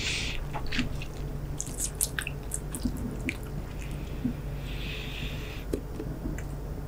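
Chewing gum squishes wetly up close, with a scatter of sharp little snaps and pops standing out over a soft background hiss.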